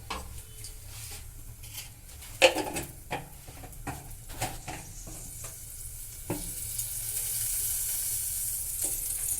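Mustard oil hits a hot pan and sizzles, starting with scattered crackles and pops and settling into a steady, bright hiss of frying by the end.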